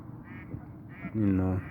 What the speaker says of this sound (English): check that bird out